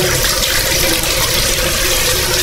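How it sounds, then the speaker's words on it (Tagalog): Tap water runs steadily and loudly in a hotel bathroom at the Hilton Copacabana in Rio de Janeiro, a dense, close, unbroken gush with strong pressure. "yung pressure ng tubig ay malakas naman"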